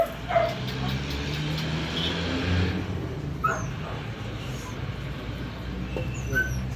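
A fierce dog gives a few short barks and yips amid a noisy background, with people talking nearby.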